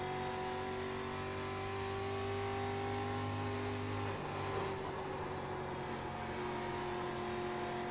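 A video game race car engine drones steadily at high revs, holding a sustained tone that shifts slightly in pitch midway; a street stock car in iRacing at Bristol Motor Speedway.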